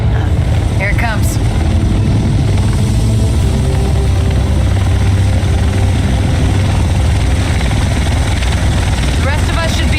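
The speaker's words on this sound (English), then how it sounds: "The rest of us should be in this chopper." A helicopter arrives in the video game The Division, its loud rotor thump and engine roar running without a break under voices in a cutscene, with a few brief sharp sounds over the din.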